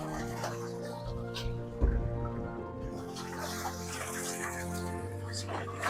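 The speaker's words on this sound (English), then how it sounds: "So I'm introducing fresh water into this particular trough where I have my brood stock" Fresh water runs steadily into a catfish brood stock trough on a fish farm, a continuous rushing and splashing flow that fills the whole clip, with a brief louder gush partway through.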